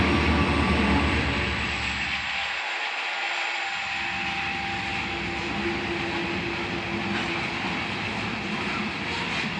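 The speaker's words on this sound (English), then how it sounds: "And it's eastbound loaded grain train." An eastbound loaded Norfolk Southern grain freight train rolls past with a loud, continuous rumble and wheel noise, steady and close. A brief low dip interrupts it early, and a faint squeal runs through the middle.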